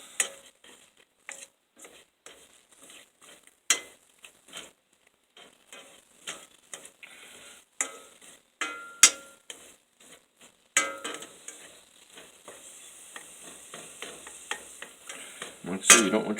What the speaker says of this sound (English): Saute those up a little bit.